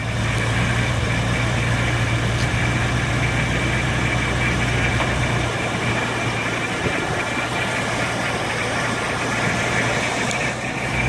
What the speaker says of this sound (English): It's running on its own with no foot on the gas.